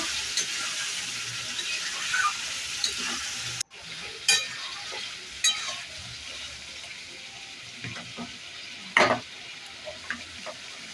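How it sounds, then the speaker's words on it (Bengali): Deshi chicken curry being stirred in a pan, with a steady low sizzle and occasional scraping clinks of the spoon against the metal, close and alone without talk. "নাড়িয়ে নেব"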